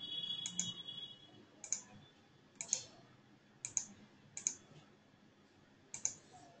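A computer mouse clicks sharply, six or seven isolated clicks spaced about a second apart, close and fairly quiet against a faint background hum.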